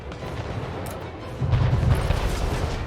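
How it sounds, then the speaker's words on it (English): Booming explosions and gunfire as a ship is destroyed during a harbor attack in the Anno 1800 strategy game, a continuous rumbling barrage that swells louder midway and stays dense to the end. "Your harbor is under attack. I think I just lost a ship carrying torpedoes."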